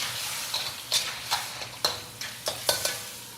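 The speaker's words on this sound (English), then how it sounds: "I keep stirring because I want that sauce to kind of go into, once they open up, go into the clams" Manila clams sizzle in sauce in a pan while being stirred, with a steady frying hiss broken by about eight sharp scraping clacks of the utensil against the pan at an uneven rhythm.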